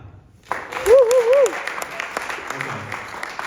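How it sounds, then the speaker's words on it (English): Applause and crowd noise from a university live performance audience rise suddenly from quiet and carry on steadily at moderate volume, with a brief tonal squeal near the start. "Round of applause."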